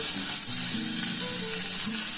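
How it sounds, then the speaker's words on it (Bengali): Bottle gourd stems fry in a pan with a steady, close sizzle, with a few scraping stirs and no one speaking. "খুব সুন্দর ভাজা হয়েছে, এর থেকে ভাজা বেশি দরকার নেই"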